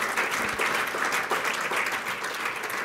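Warm audience applause at a university faculty's opening ceremony prize presentation, a dense, steady patter of many hands clapping at close range, with no voices heard.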